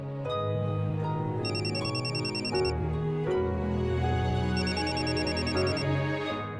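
A phone rings with a melodic electronic ringtone playing continuously and steadily, close and loud, with no talking.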